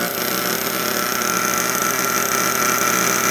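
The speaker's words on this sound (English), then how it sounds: "Those engines are beautiful." Engines of a Kyosho USA-1 radio-controlled boat run at a steady, buzzing whine, a continuous dense mechanical roar that holds evenly without pauses.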